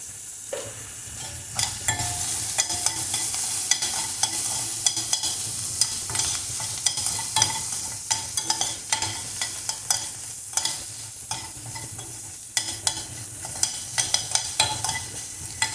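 Onions sauté in a hot pan with a constant crackling sizzle, and a spatula stirs them in frequent scraping, clattering strokes, close up with no voices.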